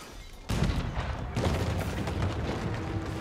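Cannon fire in Age of Empires IV during an Imperial Age tournament match: two heavy booming volleys land about a second apart, followed by a continuing rumble of battle.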